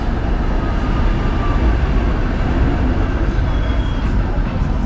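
An old yellow tram rolls past on a Budapest street, a loud, steady low rumble of wheels and motor close by, continuing evenly for about five seconds.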